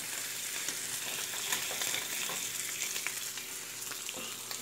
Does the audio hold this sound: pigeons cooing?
no